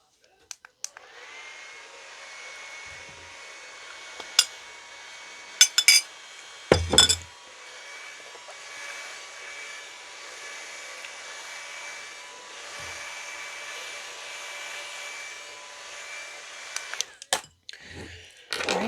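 A hair dryer blows steadily on hair for a long stretch, a close, even whir broken by a few brief clinks and taps of small items being handled.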